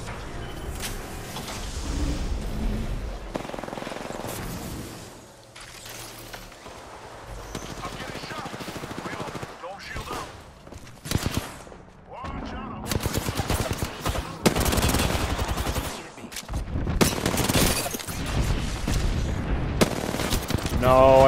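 Dense bursts of automatic gunfire in the video game Apex Legends come in rapid loud volleys separated by short lulls, with a voice talking over the shooting in places.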